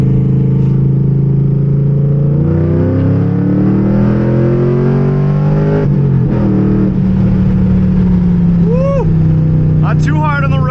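A cammed Trans Am engine on a dyno is loud and close as it climbs through a second-gear pull, its rising note rumbling steadily with a choppy idle lope, and a voice comes in near the end.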